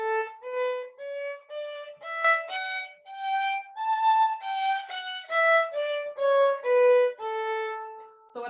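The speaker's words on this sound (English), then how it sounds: "This is the A myxolydian scale." A fiddle plays an A mixolydian scale slowly, one clear bowed note after another stepping up and back down, each note separated by a brief pause, close and alone with no speech.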